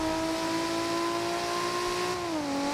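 A Nissan Skyline GT-R engine drones steadily inside a tunnel in the Forza Horizon racing game, a loud sustained hum that dips slightly in pitch near the end.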